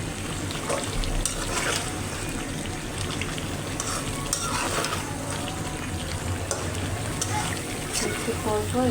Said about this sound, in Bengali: চিকেনটাকে একটু নাড়া দিই